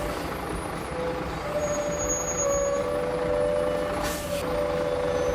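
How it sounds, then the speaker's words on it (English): A heavy logging truck loaded with logs rolls slowly along a rugged, muddy road, giving a steady low diesel engine rumble with a faint high whine and a brief hiss of air near the end. "The scene is intense as the truck moves slowly, carrying heavy logs, facing potential risks."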